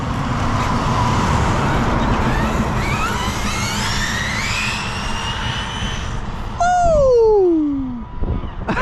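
An 80 mph electric RC truck races past close by, its high motor whine sweeping down in pitch as it passes, over steady outdoor background noise.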